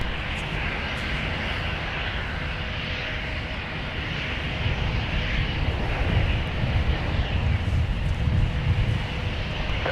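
A Delta airliner takes off from runway 17 at Minneapolis–St. Paul airport, its jet roar a steady broadband rumble with wind noise that swells slightly in the second half.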